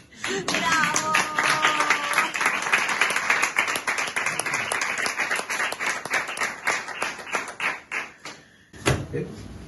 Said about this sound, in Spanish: Ya se puede aplaudir.